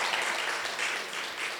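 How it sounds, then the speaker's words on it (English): An audience at an ICAI Oman Chapter professional talk gives a round of applause, heard as dense, steady clapping that holds evenly for the whole moment with no voices over it. "So I need a big round of applause."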